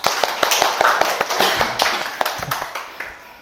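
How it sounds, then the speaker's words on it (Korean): A yoga class breaks into applause, a brisk burst of many hands clapping close by, loud at first and then thinning out over a few seconds. "박수."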